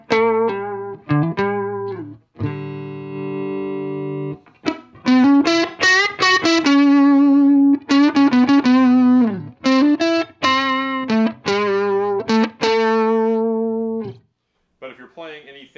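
Electric guitar through a Fender 5F1 Champ amp pushed just into light crunch, playing a run of picked single notes, bends and short sustained phrases, loud and close, with brief pauses between licks and a faint tail at the end.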